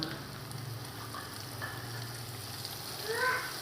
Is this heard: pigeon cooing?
no